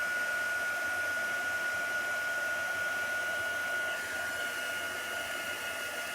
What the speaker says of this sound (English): once I turn my heat gun off